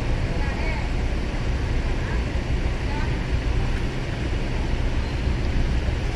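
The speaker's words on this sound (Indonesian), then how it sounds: "Untuk cuaca malam ini anginnya kenceng ya teman-teman ya, anginnya kenceng terus dingin banget ya." Strong night wind at a ferry port roars and buffets the microphone in a constant low rumble, with a faint voice underneath.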